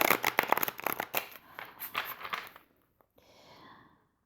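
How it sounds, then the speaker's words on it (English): Long tarot cards riffle and slap together in quick repeated bursts, close and crisp, then a softer brushing shuffle follows after a short pause. "I have a hard time shuffling these cards."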